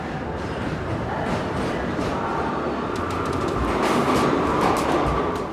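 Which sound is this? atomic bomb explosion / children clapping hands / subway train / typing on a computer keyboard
subway train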